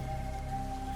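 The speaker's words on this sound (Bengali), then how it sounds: "বৃষ্টির ফোঁটা তখন আরো ঘন হয়ে নেমে আসছে।" Rain falls with dense drops on a monsoon night by a paddy field, a soft continuous patter with no talk.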